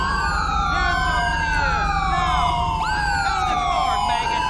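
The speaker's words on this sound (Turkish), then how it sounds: "Ambulans geliyor." An ambulance siren in the GTA 5 video game wails continuously with overlapping sweeping tones, loud and close for the whole stretch with no talking over it.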